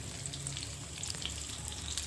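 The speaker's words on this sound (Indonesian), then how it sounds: "Saya goreng dulu sebentar bawang merahnya ini." Sliced shallots fry in hot oil, a dense continuous sizzle with scattered crackles and pops, close and steady throughout.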